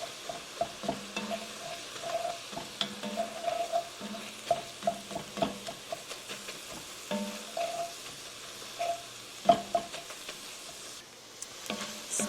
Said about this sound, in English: we're gonna stir that around and cook it for about a minute